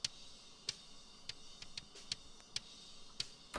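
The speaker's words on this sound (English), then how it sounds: "you really get like that snap of the beater on the head" A soloed kick drum track with the low end rolled off, leaving only the sharp, thin snap of the beater hitting the head, about ten quiet, irregularly spaced clicks over a faint hiss.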